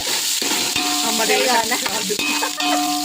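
Onions and green chillies fry with spices in a pan for chicken biryani, a steady loud sizzle with occasional scraping stirs throughout.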